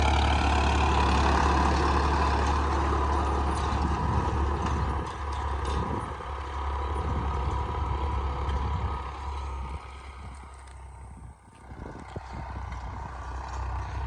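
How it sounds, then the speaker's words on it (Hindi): A Farmtrac 60 F17 tractor pulling a harrow through a field in second gear, its diesel engine giving a steady, loud, continuous low drone with some fluctuation, heard alone without talk. "दूसरे गियर में ट्रैक्टर चल रहा है ये बिना दाब के"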